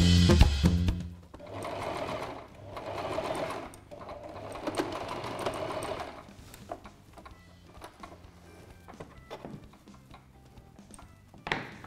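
Singer sewing machine stitching a fabric embellishment, running in steady whirring bursts with a rapid mechanical rhythm, then stopping for quieter handling clicks as the fabric is turned.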